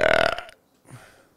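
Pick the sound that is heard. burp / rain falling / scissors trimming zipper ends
burp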